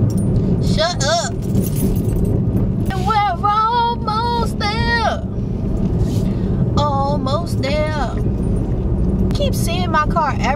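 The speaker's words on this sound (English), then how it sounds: "Keys over here clink clinking." Keys jingle and clink in bursts inside a car, with a steady engine and road rumble underneath while someone talks over much of it.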